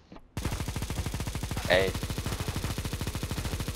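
Rapid automatic gunfire from CS:GO during an Operation Hydra guardian mission, a steady, loud stream of shots with a sharp impact partway through, and a brief voice at the start.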